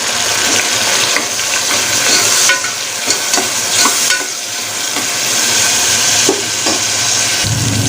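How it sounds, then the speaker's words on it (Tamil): Onion and tomato sauté in a pan for a goat trotter soup, with a constant loud sizzle broken by scraping stirring strokes throughout. "ஒரு 2 நிமிஷத்துக்கு இது எல்லாத்தையும் வதக்கி எடுத்துக்கலாம்."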